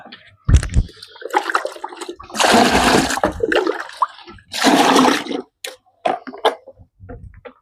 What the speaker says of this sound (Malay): Siram pokok.